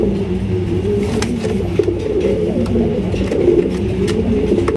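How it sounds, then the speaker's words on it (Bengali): A pair of big-sized Giribaz pigeons coo in low, steady rounded calls, repeating close by over a constant background rumble, with no one talking. "এখানে রয়েছে একজোড়া গিরিবাজ কবুতর"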